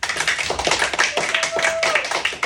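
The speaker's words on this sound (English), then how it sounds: "Clap it up for Mr. Byard." A classroom audience claps in a brisk, uneven patter, close and fairly loud, with a faint tone briefly sounding underneath.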